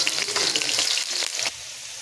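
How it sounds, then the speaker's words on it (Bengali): Large-cut potato chunks frying in oil in a wok, a brief close sizzle with a couple of stirring scrapes that drops to a quieter hiss near the end. "এবার আলুগুলোকে আমি সুন্দর করে তেলে ভেজে নেব"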